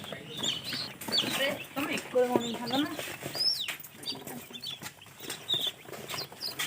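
Newly arrived chicken chicks chirp in a tray: many thin, high peeps overlap in a busy, scattered chorus close by while a person talks over them.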